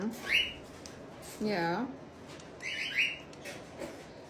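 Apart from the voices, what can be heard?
pet parrot squawking angrily while being oiled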